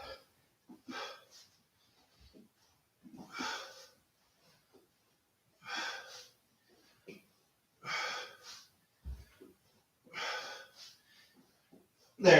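Sharp, rhythmic breaths during sit-ups, about six forceful exhales spaced roughly two seconds apart with quieter inhales between, close and otherwise quiet.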